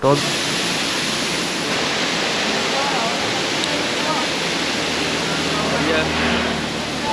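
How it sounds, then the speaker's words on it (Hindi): A natural mountain waterfall on the road to Kedarnath roars in a steady, dense rush of falling water that stays constant and loud throughout. "ये देखिए क्या खूबसूरत झरना है"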